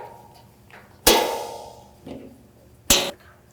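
A panel on a MacDon C or FC Series corn header is pried open with a screwdriver or 13 mm wrench, giving two sharp, loud metallic clacks about two seconds apart amid faint handling sounds.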